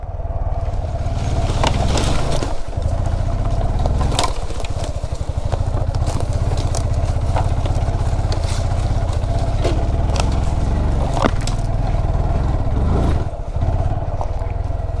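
A 2017 Honda Grom ridden off-road on a wooded hill climb, its small single-cylinder engine buzzing loud and close with constant revving surges, plus rattles and crackles from the rough trail throughout.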